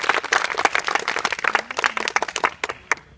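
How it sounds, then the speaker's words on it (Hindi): A school audience at an inter college in Azamgarh applauding for Roshan Yadav, a lively burst of many hands clapping unevenly that thins out and ends in a few scattered claps. "फिर से ताली बजाओ।"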